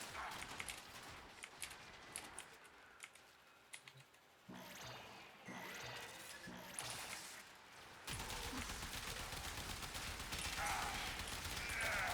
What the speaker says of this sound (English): the Bubonico's artillery mode is just so strong